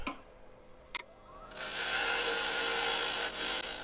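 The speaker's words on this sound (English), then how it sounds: "For that, use the little pointy gouge." A small pointed woodturning gouge cuts and rounds the wooden bottom of a turned herb-stripper pot. There are a couple of faint scraping touches, then the cut settles into a steady, close, hissing rasp for a few seconds.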